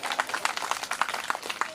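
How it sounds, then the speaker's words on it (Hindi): An audience at a religious discourse gathering claps briefly, a quick burst of irregular hand claps at moderate distance, fading out after under two seconds. "एक बार अपने लिए तालियां हो जाए।"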